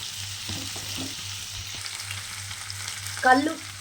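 Mutton curry masala with tomatoes sizzles steadily in a pan during a village-style goat curry, a soft continuous fry with light stirring scrapes and a brief louder clatter near the end.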